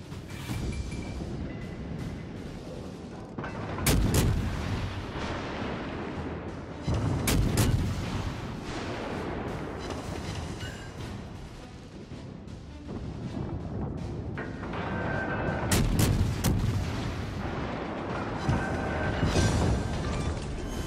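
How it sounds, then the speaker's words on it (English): Cruiser naval guns firing in the console game World of Warships Legends, repeated booming salvos at irregular intervals over a steady background rumble of wind and sea, with no talking. "this cruiser's guns turn pretty fast, so I was able to bring them to bear in no time."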